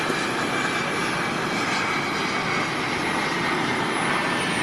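RC model airplane flying in to land, a steady whining engine drone that stays fairly even and moderately loud throughout with no talk.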